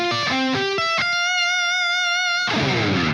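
Distorted electric guitar playing spread chord voicings built as root, fifth and third up the octave: a few quick struck chords, then one sustained ringing chord that fades before a final loud strum, alone with no talking.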